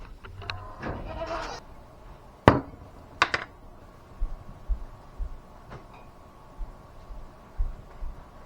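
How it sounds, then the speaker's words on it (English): Hungry goats on a farm give several separate bleats, loud at first and then fainter, with thuds and rustling between calls. "So here's all my hungry goats."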